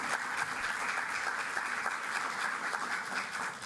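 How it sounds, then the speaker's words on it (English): Audience applause for a panel at a Hispanic health summit, a dense, steady wash of many hands clapping that holds at an even level for several seconds. "What about another round of applause for our amazing panel?"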